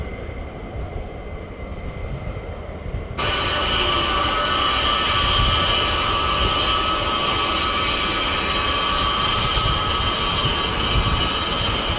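A C-17 military transport aircraft takes off at RAF Lakenheath, a broad jet roar that jumps abruptly louder partway through and then holds as a steady, powerful rumble.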